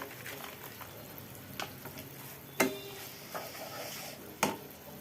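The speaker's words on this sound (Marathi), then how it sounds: "आता ह्यामध्ये आपण जे ड्रायफ्रूट्स आहेत ते टाकूया" Dry fruits go into jaggery melting in a pan, with a low steady sizzle, soft stirring scrapes and two sharper clatters, close and without talk.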